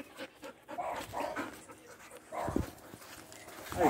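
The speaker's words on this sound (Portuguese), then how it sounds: "Vou fechar com uma Foxhound americana pura." A purebred American Foxhound pants in quick, rhythmic breaths close by, with a few soft whimpery sounds mixed in over about four seconds.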